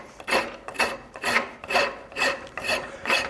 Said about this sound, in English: you can see how fast that rasp cuts